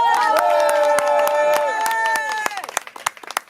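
Applause and cheering at a slam poetry evening in Vence, clapping heard over voices talking loudly, then thinning into scattered individual claps as the noise dies down.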